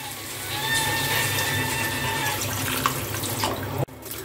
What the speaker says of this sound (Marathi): आता यामध्ये आपल्याला 2 ग्लास पाणी घालून घ्यायचं आहे.